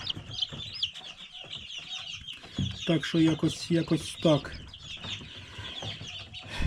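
Chicks and ducklings cheep and peep in busy, high chirps, with soft clucking and someone talking quietly nearby.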